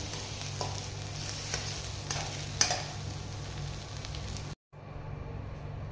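A spinach mixture with salt and coriander leaves is stirred in a pan with the gas turned off, making a continuous soft scraping and sizzle, a sharp metallic clink partway through, and a brief dropout near the end.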